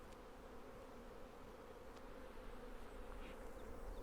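Bees hum steadily around an open hive frame being handled, a continuous low droning buzz that stays even throughout with a few louder passes near the end, no voices.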